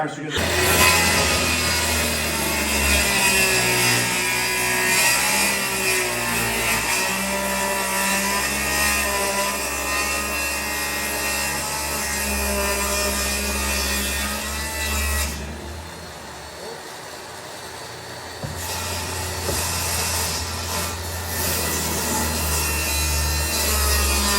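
A power saw cutting through plywood for a grain bin cabin build: a loud, continuous rasping whine close by for over twenty seconds, briefly easing in the middle before resuming, with no speech.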